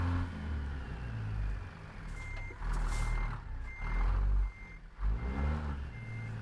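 Regular electronic reversing beeps from a truck backing up in American Truck Simulator, repeating at an even pace over a loud low engine rumble that swells and dips.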